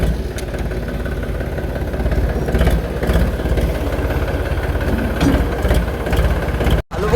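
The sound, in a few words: tractor engine driving to the plot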